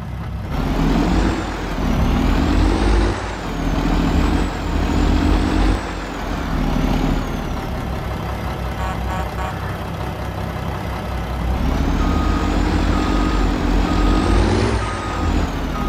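A Mack RS700L truck in Farming Simulator 22 drones loudly and steadily, with rising and falling engine tones, repeated reversing beeps and bursts of air-brake hiss, with no voices.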